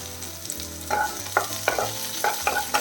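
Small onions and dried chillies sizzle and crackle in a pan while a spoon stirs them in repeated scraping strokes, close up and clearly audible.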